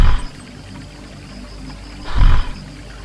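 An African savannah lion gives two short, deep, loud roars, one at the start and another about two seconds later, with a quiet low rumble between them.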